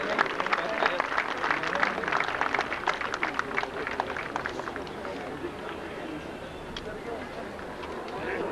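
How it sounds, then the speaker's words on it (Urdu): Audience at a 2008 convention applauds to welcome a speaker, a sustained, fairly even clatter of many hands that carries on steadily throughout, with no voices standing out. "لہٰذا آپ سے گزارش ہے بہت ساری تالیوں میں استقبال کیجیے گا۔"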